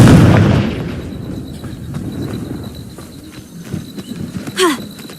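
A Confringo fire spell in Hogwarts Legacy goes off with a loud, close blast at the start, followed by softer thuds, footsteps and a short whooshing burst near the end.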